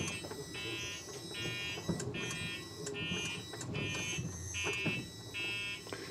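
Small GEM electric car's motor controller giving off a steady high-pitched whine and hiss as it chops the DC supply, with repeating pulsed tones over a low rumble of the car.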